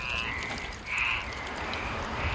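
Native black-spotted pond frogs call from a pesticide-free paddy, a steady, continuous croaking chorus at moderate distance with a couple of louder swells and no talk.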